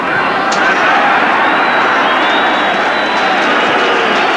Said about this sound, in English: Once again, the crowd give vent to their support.